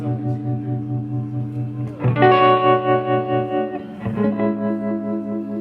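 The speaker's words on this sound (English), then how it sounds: "You turn up the reverb." Tube guitar amplifier with its reverb turned up, sustained electric guitar chords ringing out with heavy wash and effects, struck anew about every two seconds and left to decay, loud and close with no talking.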